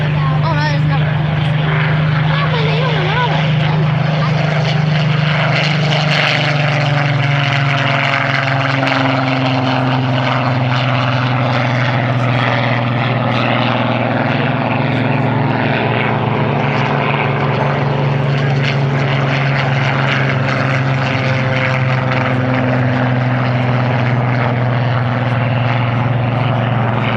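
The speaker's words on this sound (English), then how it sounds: "Our Spitfire formation including two Spitfires, the naval variant, into the air to form up." Spitfire fighters, including a naval variant, fly in formation at an air show, their piston propeller engines droning loudly and continuously with slowly shifting pitch as they pass.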